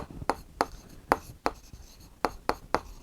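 Chalk taps and scrapes on a board as a teacher writes during a maths lesson, seven or eight sharp strokes in an irregular rhythm, close and fairly quiet.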